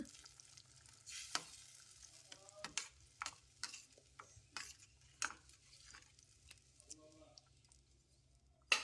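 Turmeric is stirred into gojju cooking in a pan over a low flame: quiet, sparse spoon scrapes and clicks against the pan over a faint sizzle.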